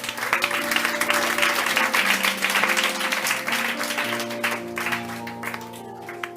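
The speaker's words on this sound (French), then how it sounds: "Est-ce que tu peux acclamer le nom de Jésus?" A church congregation claps and cheers together in sustained applause, steady and full, with an organ or keyboard holding chords underneath throughout.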